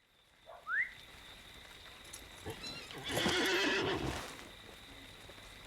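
A horse in the video game Lord of the Rings Online whinnies sharply, then a rush of hoof clatter and rustling swells and fades, set against a faint, steady ambient hum.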